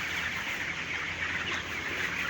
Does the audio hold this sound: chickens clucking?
yes